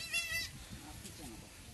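Six-month-old goat kid of a Beetal, Barbari or cross breed giving one short, wavering bleat close by, then a faint murmur of background sound.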